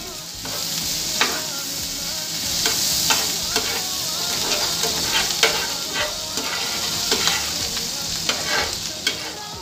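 Butter melting in a frying pan for egg noodle carbonara, a steady, close hiss of sizzling fat with scattered crackles and pops throughout, with no voices.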